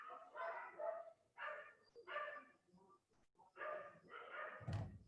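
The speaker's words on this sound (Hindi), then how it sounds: "एक सेकंड रुको, कुत्तों की झुंड को शांत होने दो" A pack of dogs barks in repeated overlapping bursts of several rapid barks each, faint and somewhat distant, with a brief louder thump near the end.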